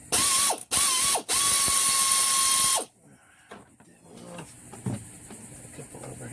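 A ratchet removing alternator bolts makes loud, close bursts of rapid clicking with brief pauses between them, then gives way to quieter scraping and handling of metal parts.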